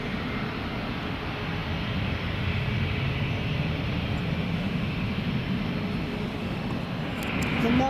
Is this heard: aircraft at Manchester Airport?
yes